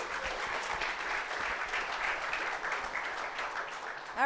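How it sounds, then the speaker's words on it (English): Conference audience applauding a speaker at a DevOps talk, continuous dense clapping filling the room for about four seconds before a brief louder noise at the end. "Renee Lung, please, with a big applause."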